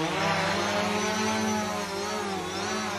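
A drone hovers overhead above a farmyard, giving off a loud, steady, whining propeller drone with a gently wavering pitch throughout, with no talk.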